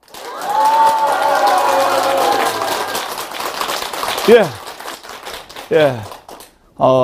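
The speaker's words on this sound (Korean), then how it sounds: "뜨거운 함성 다 좋습니다" A studio audience at a Buddhist monk's televised talk show cheers and shouts loudly for about four seconds, then the noise fades and a voice speaks.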